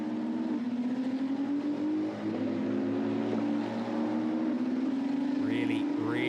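Ferrari 488 Challenge race cars at Okayama circuit drone past at race speed, a sustained engine tone rising in pitch beneath a commentator's steady talk.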